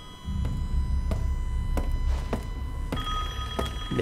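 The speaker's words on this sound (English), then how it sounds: "The phone is ringing." A telephone rings in the horror game Resident Evil Village, with repeated bell bursts at a steady rhythm over a low ambient rumble, fairly loud and without talk.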